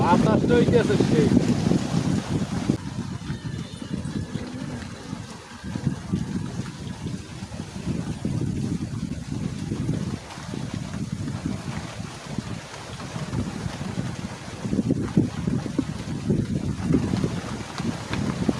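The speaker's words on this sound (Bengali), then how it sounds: "আজকের বাতাস যে হইতেছে খুবই, মানে মাথা নষ্ট বাতাস" Strong wind batters the microphone in an open field beside a canal where fish are being caught. Heavy low rumbling gusts rise and fall throughout.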